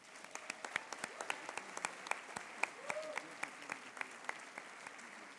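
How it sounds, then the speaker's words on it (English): An audience applauds at a medical school class day ceremony, many hands clapping in a large hall with individual sharp claps standing out over a steady wash, and a brief murmur partway through. "Let's give them all a round of applause."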